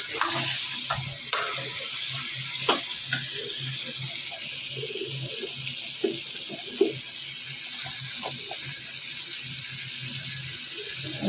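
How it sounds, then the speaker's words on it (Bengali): Ingredients fry and hiss steadily in a pan for a roast-style dish, with intermittent scraping and stirring knocks over a constant sizzle and no talking. "এখন এটা আমি একটু ভেজে নিয়ে হালকা সামান্য হলুদ দেব"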